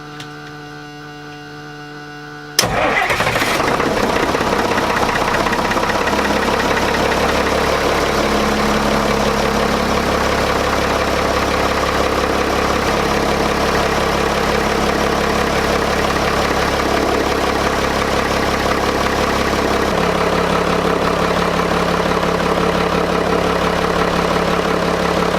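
A John Deere 6404 inline six-cylinder diesel engine cranks and catches after a steady warning tone, then settles into a loud, even idle that runs on unchanged, with no talking.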